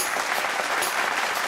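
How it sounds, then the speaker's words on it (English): Audience applause greets a performer being introduced on a talk show, a dense, steady wash of clapping at fairly close range that holds evenly for its full length with no voices over it. "Let's put our hands together for Kadeem Nichols"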